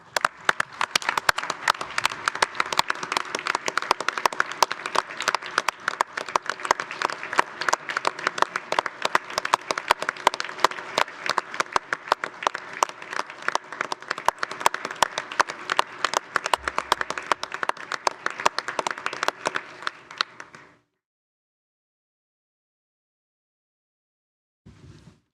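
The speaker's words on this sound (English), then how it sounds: "Please join me in applause for their valiant efforts." Village board meeting attendees clap for first responders, a sustained round of fairly close, crisp applause lasting about twenty seconds before cutting to silence, then a faint brief noise at the end.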